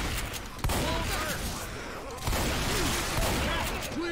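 Gunfire in the zombie shooter Left 4 Dead 2: dense, sustained weapon fire with two sharp bursts, loud and close, mixed with game sounds and a voice talking.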